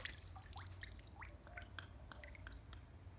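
A small chlorine test bottle fills underwater at elbow depth, making a run of soft bubbling gurgles and rising water-drop plinks over a low, faint rumble, with no talking.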